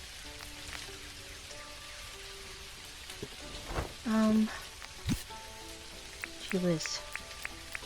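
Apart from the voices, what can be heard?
rain in the video game Dinkum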